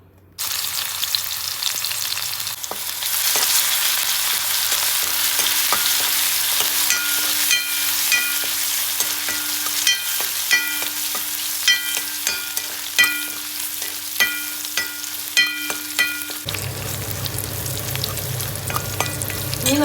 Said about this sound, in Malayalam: ഇപ്പം നമ്മുടെ വെളിച്ചെണ്ണയൊക്കെ നന്നായി ചൂടായി തുടങ്ങിയിട്ടുണ്ട് ഇനി നമുക്ക് ഇഞ്ചി വെളുത്തുള്ളി ഇടാം